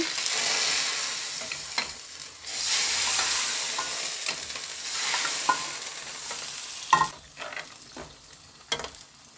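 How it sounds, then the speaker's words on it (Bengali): Ginger and puti fish frying in a pan, a steady bright sizzle with occasional stirring scrapes and small spikes, close and alone without speech. "আদাটা একটু ভাজা ভাজা করবো মাছ দিয়ে দিচ্ছি"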